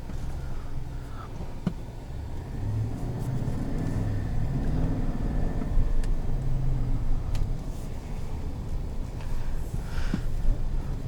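Steady low engine rumble and road noise from a 2021 Chevrolet Silverado 1500 High Country with the 6.2L V8, driven in sport mode, heard from inside the cab, continuous and moderately loud with no talking.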